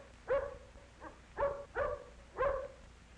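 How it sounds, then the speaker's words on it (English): A big dog in a small town makes a series of four or five short, gruff bursts at a measured pace, moderately faint and alone. "the big dog growls at Tippy"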